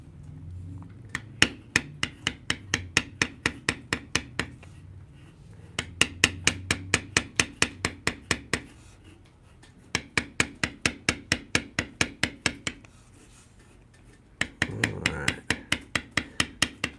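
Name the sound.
tapping leather beveling tool on knife sheath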